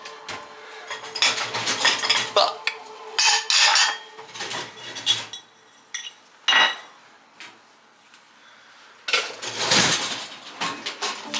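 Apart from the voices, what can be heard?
dishes and cutlery being put away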